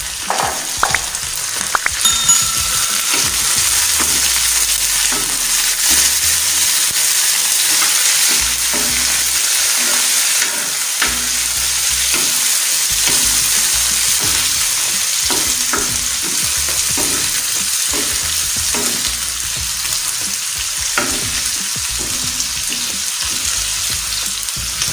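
Goat liver and intestines (kaleji pota) fry with onion and garlic over a medium flame, giving a loud, constant sizzle with repeated scraping and stirring of a spoon in the pan throughout, with no one speaking.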